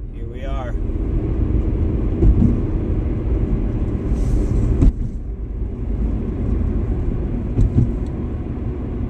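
A small car drives across the Ohio River bridge between Madison, Indiana and Milton, Kentucky, a steady low road rumble and tire drone heard from inside the cabin, with a few brief thumps from joints and a voice speaking over it.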